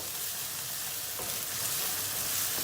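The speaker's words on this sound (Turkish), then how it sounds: "Tam bu aşamada soğanını döküyoruz. Soğanla beraber sarımsakları iyice bir kavuracağız" Onions and garlic are sautéed in a pan for a pasta dish, giving a close, steady hiss of frying that swells slightly toward the end, with no talking.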